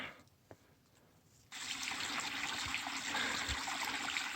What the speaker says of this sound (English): Ice cold water coming right out of the ground.